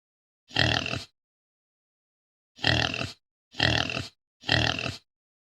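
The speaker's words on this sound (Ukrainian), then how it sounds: "свиня, хряк, або ще можна сказати кабан і порося. І послухаємо їхні звуки" Pig grunts from a sow, boar and piglet: four separate bursts of rough, loud grunting, one alone and then three in quick succession after a pause, close and clear with silence between.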